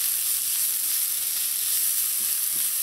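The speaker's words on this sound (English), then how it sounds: "When your oil is hot, add your onions in. Just want to saute the onions a little bit" Onions sautéing in hot oil for a Trini fish pie, a steady close hiss of frying with faint stirring clicks near the end and no voices.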